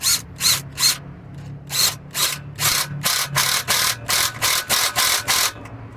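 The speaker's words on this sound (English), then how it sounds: "we're gonna go ahead and snug this nut down for this clamp" Quick bursts of a hand ratchet snug down a clamp nut on the EGR valve of a Detroit 60 Series engine, a dozen short clicking strokes in uneven rhythm, close and loud with no talk.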